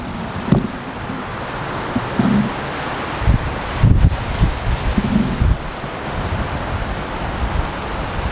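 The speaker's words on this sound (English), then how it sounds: "Look at this wind." Strong, gusty wind roars steadily through palm trees in Las Vegas, with heavy rumbling buffeting against the microphone and louder surges coming and going throughout, no voices.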